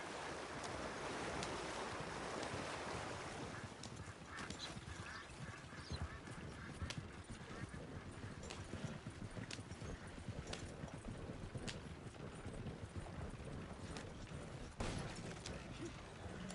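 Horse hooves clip-clop steadily as a horse-drawn wagon rolls through shallow water in Red Dead Redemption 2 Online, with faint splashing and occasional voices in the background.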